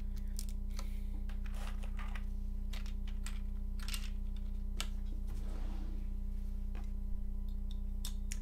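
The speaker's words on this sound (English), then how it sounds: "I really hate putting on and taking off keycaps." Keycaps clicked one after another onto a custom 75% keyboard, the XENO build with Zealio V2 switches, heard as close, quick irregular plastic taps and snaps over a steady low hum, with no talking.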